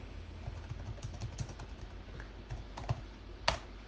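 Fingers type a short command on a computer keyboard during a programming lesson, producing quiet, irregular clicking keystrokes with a sharper final key press like Enter, close but faint, with no talk.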